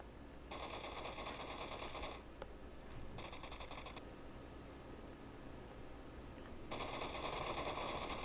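Rapid automatic gunfire rattles in PUBG Mobile in three bursts: a long one, a short one and a final sustained stream. The shots are dense and sharp and sound moderately distant, with no speech over them.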